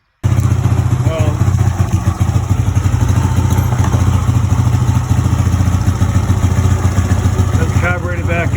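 An E-ton Yukon 110 engine idles roughly after a carburetor repair, a steady near chugging with an uneven skip, running throughout while someone talks over it.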